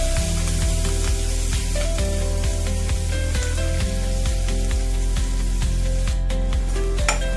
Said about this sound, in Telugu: ఆనియన్స్ లైట్ బ్రౌన్ కలర్ వచ్చే వరకు వేయించుకుందాము